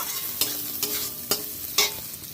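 Vegetables for veg chowmein being stirred in a hot pan with a steady sizzle underneath, four distinct scraping strokes of a spatula at roughly half-second intervals, close and fairly quiet.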